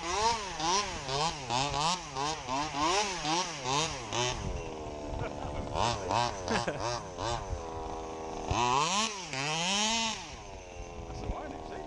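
A small, buzzy motorcycle engine revs up and down over and over, close by, with voices faintly underneath.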